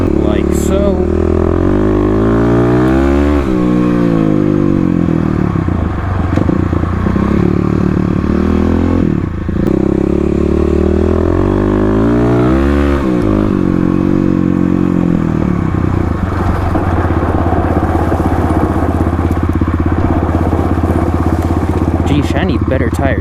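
A Kawasaki KLX351 dirt bike ridden off-road roars loudly and close, its engine pitch rising and falling with throttle changes and gear shifts while a rider talks over the steady motor.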